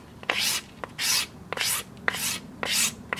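A knife blade scrapes the bark off a bamboo section in short rhythmic strokes, about five raspy swipes close by, each with a brief knock of the blade.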